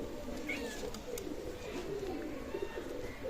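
Pakistani teddy pigeons coo in a loft, a steady, low, rolling murmur of overlapping calls that continues without a break at close range, with no one talking.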